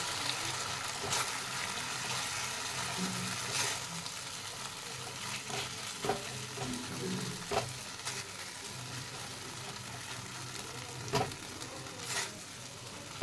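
A ground paste of poppy seeds, cashews and green chilies frying with onion in a pan on a low gas flame, a steady quiet sizzle with occasional spatula taps and stirring scrapes, close and without talk.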